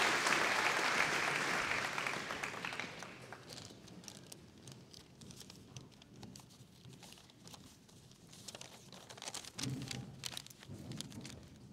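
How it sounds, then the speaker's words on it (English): Audience applause at a 2023 school graduation ceremony, loud dense clapping at the start that thins and fades into scattered claps, then swells briefly again near the end. "So, a round of applause for Jack, please."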